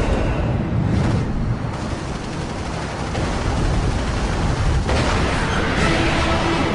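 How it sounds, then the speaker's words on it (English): A huge fireball explosion follows aircraft cannon fire in an air combat sequence, heard as a sustained loud roaring blast with a sharper surge near the end and no talking. "Then a huge fireball."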